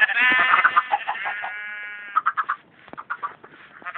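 Sheep in the Minecraft video game bleat several times in quick succession, loud and close with wavering, nasal tones, no talking over them.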